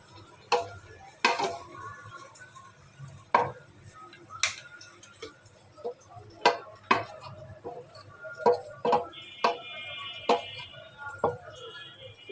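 A knife chops cucumber on a cutting board in a home kitchen, making a string of sharp, irregular taps close by, with faint background clinks between the cuts.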